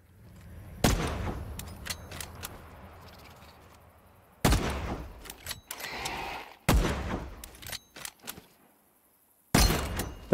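Sniper gunfire in Cycle Frontier cracks out as a few loud, isolated shots spaced several seconds apart, each a sharp broadband bang with a short tail, separated by quieter ambient stretches.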